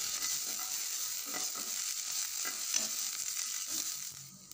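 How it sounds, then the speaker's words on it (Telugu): Ginger garlic paste sizzles in a hot pan with a steady, crackling fry, broken by faint scraping and stirring sounds, close and with no voices. "ఇప్పుడు 1 స్పూన్ అల్లం వెల్లుల్లి పేస్ట్ వేసుకుని పచ్చివాసన పోయే వరకు ఫ్రై"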